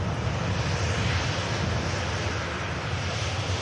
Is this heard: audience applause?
no